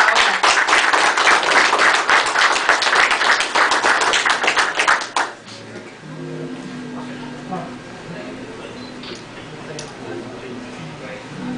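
Loud, dense clapping from an audience at an office staff recognition ceremony, sustained for about five seconds before cutting off abruptly, followed by quieter room sounds and murmuring.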